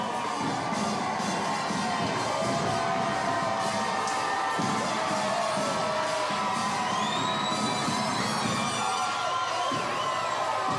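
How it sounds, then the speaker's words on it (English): Crowd lining a Mardi Gras parade route in downtown Mobile, Alabama, cheering and shouting continuously, with children's high voices and whoops rising over a dense, loud roar that never lets up. "Listen to this crowd. It's amazing."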